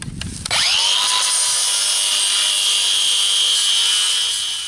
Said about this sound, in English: you can see what that 40 grit did. It took all the heavy rust off.